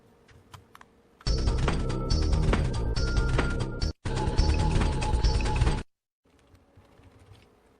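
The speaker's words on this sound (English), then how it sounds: "I want to get a sense of how fast his typing is." Rapid, dense keystrokes clatter on a computer keyboard in a continuous burst of about four and a half seconds with one brief pause, set between quiet stretches.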